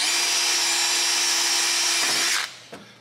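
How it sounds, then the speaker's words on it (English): A power drill whines loudly and steadily for a couple of seconds pre-drilling holes for a front splitter on a C6 Z06 Corvette, then spins down and stops, followed by a small clunk. "Okay, first pre-drilling."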